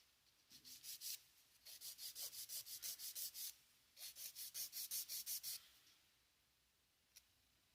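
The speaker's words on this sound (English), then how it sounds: "I'm going to file it into shape with my 180 grit side" A 180 grit nail file shapes a gel nail tip in quick, close back-and-forth rasping strokes, delivered in two rhythmic bursts of about a dozen strokes each, then a pause with a faint tap, and no talking.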